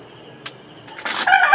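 Roosters crowing in the Philippines, a brief faint call followed by a louder, nearer crow building near the end over quiet outdoor background.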